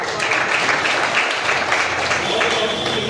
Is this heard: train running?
no